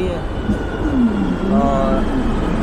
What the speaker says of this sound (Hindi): चलो भाई, अपनी ट्रेन आ गई है